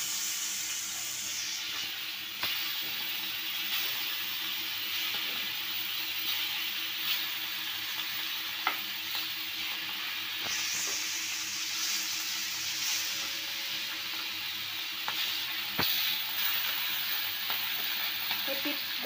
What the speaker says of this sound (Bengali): মাছটা ভাজা হয়ে গেছে, দেখে একদম কড়া করে ভাজা নিচ্ছি।